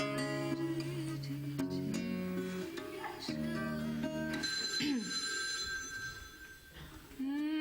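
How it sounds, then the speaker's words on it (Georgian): A household telephone rings in a comedy-series home scene, with repeated ringing bursts at moderate volume and little talk around them. "თამარ, ჩვენი ტელეფონი იყო?"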